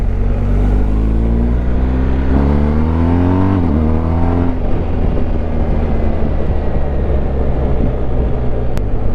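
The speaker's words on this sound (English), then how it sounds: "So let's see if this specific 1250 GS has that fun factor to it." A BMW R1250 GS motorcycle engine revs hard and climbs through the gears, loud and close throughout, each upshift dropping the pitch before it rises again, with no talking.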